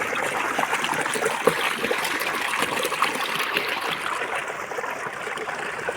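Water runs along a channel beside village paddy fields, a continuous, fairly loud trickling and gurgling flow heard close up without pause.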